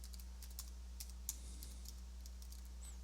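Typing a search term into a library database on a computer keyboard, a few faint, sparse key clicks close by over a steady low electrical hum.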